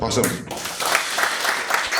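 A small group at a seminar claps in scattered applause while a voice talks over it in Korean.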